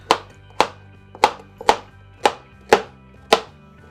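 A knife chops carrots for stew on a cutting board, seven sharp, evenly spaced thunks about half a second apart, close and clear with no talking.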